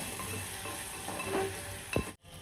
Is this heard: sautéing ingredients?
yes